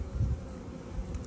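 Honey bees buzz softly around a hive during California almond pollination season, a faint steady drone with no voices.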